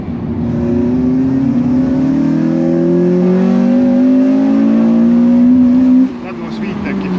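Loud in-cabin engine of a Honda Civic Type R FN2 revving hard and climbing steadily in pitch into VTEC for several seconds, then easing off abruptly near the end, with a voice speaking over it.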